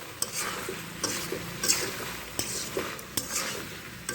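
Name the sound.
stir-frying soybean chunks with vegetables in a pan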